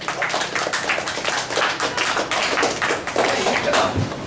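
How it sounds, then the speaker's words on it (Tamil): An audience at a pigeon racing association's award ceremony in Pudukkottai district claps steadily and densely for several seconds, many hands beating unevenly together in a lively room. "எல்லாம் கை தட்டுங்க கொஞ்சம்."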